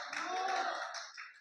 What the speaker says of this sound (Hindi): क्या ताली नहीं बजाओगे जोर से?